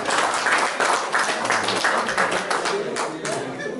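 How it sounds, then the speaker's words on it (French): Guests at Papa Raphaël's 60th surprise birthday party in Washington applaud in a steady patter of clapping, with voices mixed underneath. "Je demande qu'on applaudisse encore pour lui."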